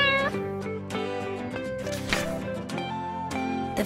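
A grumpy house cat meows repeatedly in short, harmonic-rich calls, loud and close, one after another with brief gaps.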